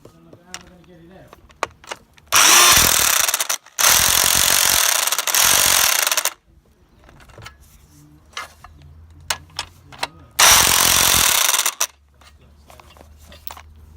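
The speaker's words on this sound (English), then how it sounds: "you can just use a rattle gun" An impact wrench, or rattle gun, hammers on front suspension nuts during an RX8 suspension rebuild. It gives three loud, sustained bursts of about one to two seconds each, with quieter clanks and workshop noise in between.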